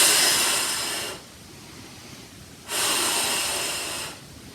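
Two long, loud breaths, a rushing exhale and a slower inhale, taken close during a barre workout, heard alone without talking.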